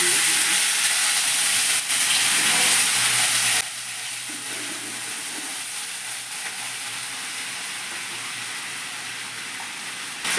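Water poured onto a sizzling spice tempering with asafoetida in a pan for chana dal sets off a loud hissing burst that drops to a softer, steady simmering sizzle.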